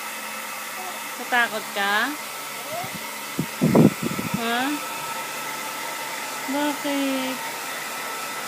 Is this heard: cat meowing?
no